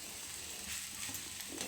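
Vegetables for a vegetable chop sizzle and fry in a pan, a faint steady crackling hiss with light stirring, no voices.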